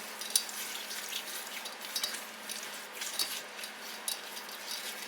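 A spoon stirs a sugar mixture in a pot, making soft repeated scraping and light clinks against the metal in an irregular rhythm, fairly quiet over a faint steady hum.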